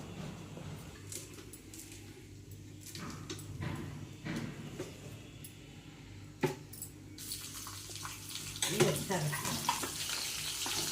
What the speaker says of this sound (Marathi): तेल तापलं, थोडंसं तापलं आहे, जिरं मोहरी घालून घेते.